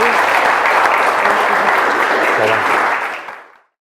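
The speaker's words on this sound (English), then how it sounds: "Round of applause." Enthusiastic applause from a crowd, a loud dense burst of clapping that holds steady for about three seconds before quickly dying away to silence.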